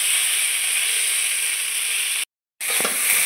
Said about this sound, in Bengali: কচুরমুখীগুলোকে একটু ভালো করে ভাজতে হবে